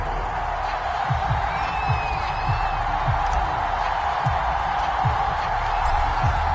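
A sold-out stadium crowd in an EA Sports Madden football game makes a steady, loud roar of cheering throughout, with a few whoops and faint thuds inside it.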